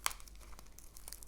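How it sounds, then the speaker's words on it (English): Brief crinkling of wrapping as an orchid plant package is opened, two quick crisp rustles at the start and end of a short, close moment with no voices. "So let me just unwrap this"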